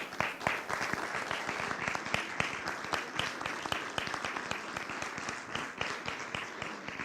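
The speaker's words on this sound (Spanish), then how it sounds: "ya me empieza a sonar aplauso final" Audience applause after a poetry reading, steady dense clapping from a crowd filling the room at moderate loudness for the whole stretch, with no voices over it.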